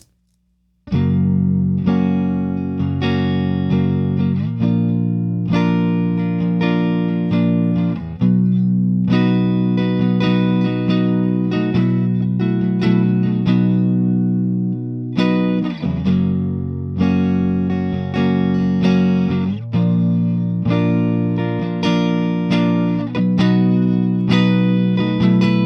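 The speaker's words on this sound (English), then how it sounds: "this is going to be the clean channel on the Rivera Knucklehead Reverb with the" An electric guitar plays through the clean channel of a Rivera Knucklehead Reverb amp fitted with JJ E34L power tubes, ringing chords strummed in a steady rhythm, close and loud with no talking.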